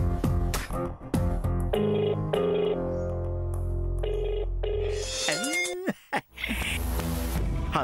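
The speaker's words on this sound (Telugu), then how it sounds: "వెంటనే బాబాయ్కి ఫోన్ చేస్తా." A phone rings with a melodic electronic ringtone while a call is placed, clear and close. Its steady musical notes carry for about eight seconds with no one speaking.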